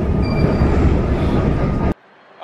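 A train rumbles loudly along the rails, a dense clattering roar with a faint high squeal, then cuts off abruptly into near silence before a short rustle at the end.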